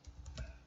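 Brief burst of typing on a computer keyboard, a few quick soft key clicks close by.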